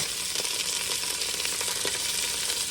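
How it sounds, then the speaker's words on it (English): Sausage browns in a pot as the base for a spaghetti sauce, giving a dense, even sizzle with faint crackles throughout. There is no talk. "So I'm going to let this sausage cook for a while."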